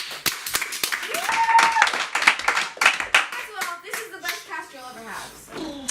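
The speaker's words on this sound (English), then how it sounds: "Give yourselves a round of applause." A group at a reunion for a competition game season claps for themselves; uneven, close hand claps with some cheering, while voices, including a child's, talk over the applause as it tapers off.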